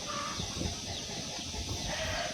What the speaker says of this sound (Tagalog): putak ng putak yung mga manok ko